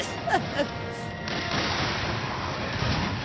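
A bowgun fires spread ammo in Monster Hunter World. A few sharp shots come first, followed by a dense, rumbling spray of blasts that lingers over steady game noise.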